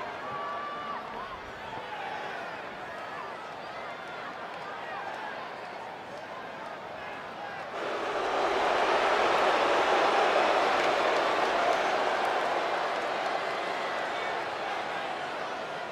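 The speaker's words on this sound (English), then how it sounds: "And Michael, it sounds to me like this crowd already picked the one who they want to win this match" Arena crowd in the WWE 2K20 wrestling video game, a steady broad roar that swells louder about halfway through and holds, with no speech over it.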